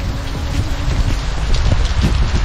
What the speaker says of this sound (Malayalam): ആ ഭാഗത്ത് ഫുള്ള് കോടേട്ടോ, എന്താ മഴ